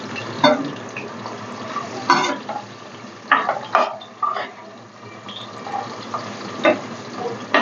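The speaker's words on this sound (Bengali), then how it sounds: "আলুগুলো একটু ভেজে নিতে হবে।" Potatoes sizzle in oil in a pan while a utensil stirs them, scraping and knocking against the metal in irregular bursts over a constant frying hiss, close up and moderately loud.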